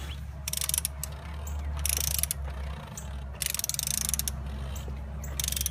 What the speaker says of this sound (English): then I'm going to come back in with my torque wrench, and this gets tightened to about 10 foot-pounds of torque